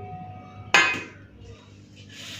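Plates and a serving spoon clink once, sharply, as rice is served onto a plate in a home kitchen, followed by softer scraping against a quieter background.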